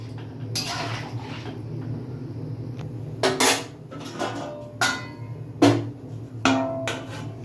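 A plate set over a cooking pot of jackfruit and prawn curry gives several sharp clatters and clinks of metal and crockery, close by over a low stove hum.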